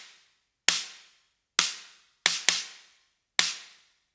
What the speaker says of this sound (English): I love that snare sample, so good.